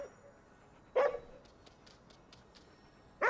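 A dog in the game Ghostwire: Tokyo barks twice, with sharp single woofs about two seconds apart, moderately near, over faint background ambience.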